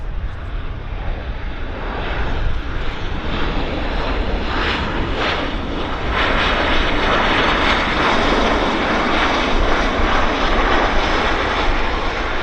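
An airliner touching down at Vancouver Airport, a loud sustained engine roar with broadband rumble that swells partway through, heard from a distance with no talking.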